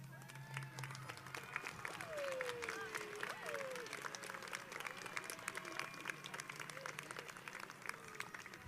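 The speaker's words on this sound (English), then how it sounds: "please rise for a round of applause." Applause from a crowd at a high school graduation ceremony in a large hall: steady, distant clapping sustained throughout, with faint voices and murmurs mixed in.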